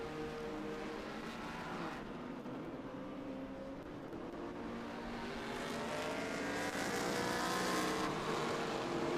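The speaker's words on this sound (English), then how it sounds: "Grabbing gears now as he heads towards the Yard of Bricks" A race car at Indianapolis Motor Speedway in an Indy SpeedTour FR Americas race, engine roaring steadily and loud for the whole stretch, with a broad rushing wash that swells toward the end as it drives toward the Yard of Bricks.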